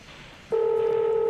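A telephone rings with a sudden steady electronic tone that cuts in after a quiet, murmuring room background and stays loud and even, close to the listener.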